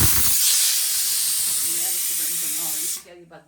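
A pressure cooker whistle shrieks loudly as it releases steam while cooking dal and rice, a sustained hiss that cuts off abruptly near the end, with someone talking over it.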